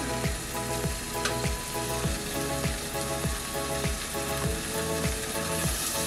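Pork ears searing in a dry, oil-free pan give a steady sizzle, with regular clicking, ratchet-like mechanical ticks running through it the whole time; no one speaks.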